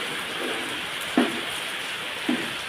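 Steady rain hisses evenly at a vegetable market in Jammu, with two brief soft knocks standing out against the constant patter.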